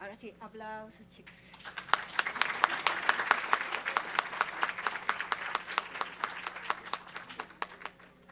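Audience at a national criminology congress applauding an award presentation, starting with a few scattered claps and building into steady, crisp clapping that carries on throughout, with no one talking over it.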